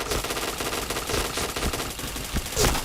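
Machine gun fire in a mobile shooter game, a continuous rattling stream of rapid shots with a sharper, louder crack near the end, and no voices.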